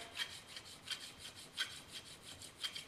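Plane blade rubbed back and forth on a fine 4000 grit sharpening stone, a faint, steady series of soft scraping strokes, roughly three per second, with no talking.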